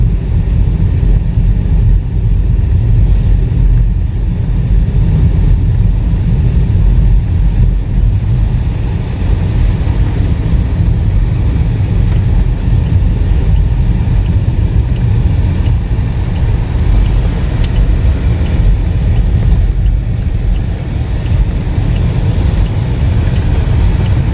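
Steady road traffic rumbles near the port in Dumaguete, a loud, continuous wash of engine and tyre noise mixed with wind buffeting, with no distinct passes standing out.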